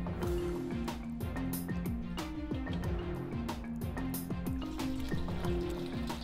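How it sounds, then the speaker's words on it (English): Hot water running from a tap over hands being washed, a steady close splashing and trickling with irregular drips and squelches, no talking. "we've got running hot water and soap. First off, get some water on your hands"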